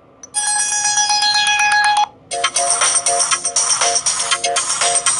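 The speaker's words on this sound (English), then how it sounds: "Phone ringtone." A Vinsoc XA Pro phone plays its ringtone: a bright electronic melody of sustained tones for about two seconds, then after a brief gap a faster run of pulsing, rhythmic chime notes, clear and close.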